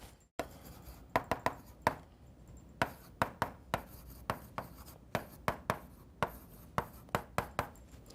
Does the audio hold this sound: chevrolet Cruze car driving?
no